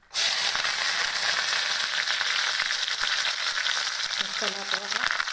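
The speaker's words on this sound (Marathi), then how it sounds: "हा चला मी कांदा हे टाकून घेते आता" Chopped onion drops into hot mustard oil for a capsicum dish and sizzles loudly and steadily from start to finish, a dense close-up frying hiss with a brief scrape of stirring near the end.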